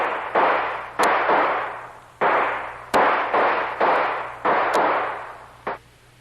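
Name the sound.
gunfire, bullets shot in audio drama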